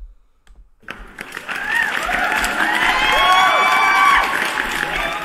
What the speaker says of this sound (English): Let me give you guys a round of applause for stopping by.